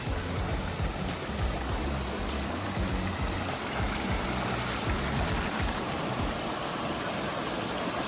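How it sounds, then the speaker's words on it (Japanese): A mountain stream in the mossy Shiratani Unsuikyo forest on Yakushima rushes steadily, a broad continuous wash of flowing water with no voices, close and even throughout. "自然の中の水の音、"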